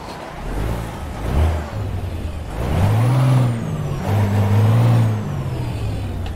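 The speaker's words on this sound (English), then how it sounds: "Every time that truck spawns and you hear that brake kick in" A heavy truck engine rumbles and revs with a sharp hissing burst of air brakes, loud and close, with no speech, in American Truck Simulator.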